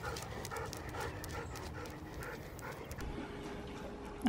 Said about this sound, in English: I have 2 hot tired puppies along with myself.